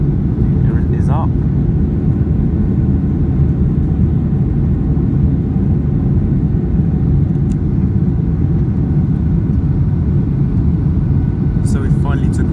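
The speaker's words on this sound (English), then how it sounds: "So we finally took off. Flaps are being retracted." Steady loud low roar filling the cabin of a Norwegian Boeing 737-800 climbing just after takeoff from London Gatwick, the engine and airflow rumble constant throughout, with brief voices surfacing faintly near the start and end.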